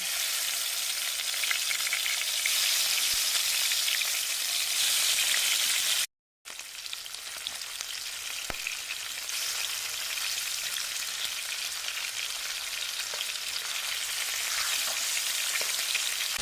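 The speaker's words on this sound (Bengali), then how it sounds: "মাছগুলোকে একে একে তেলের মধ্যে দিয়ে দেব হালকা ভেজে তুলে নেব" Hilsa fish pieces sizzle in hot mustard oil in a kadai with a steady, bright crackling hiss and a few pops, interrupted by a brief gap of silence partway through, with no talk.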